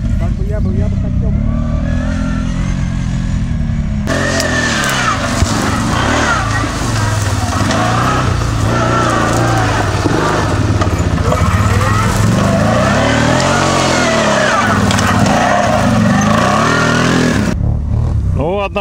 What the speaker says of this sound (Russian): посмотрим, как квадроцикл у нас